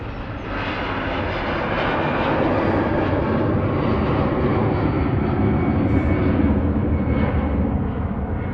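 EasyJet airliner taxiing out at Manchester Airport, a steady broad jet-engine roar held at a constant loud level throughout, fairly close, with no voices.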